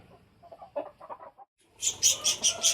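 A Vizag-breed fighting rooster clucks in a quick run of short notes, pauses, then gives louder, higher rhythmic squawking calls close to the listener.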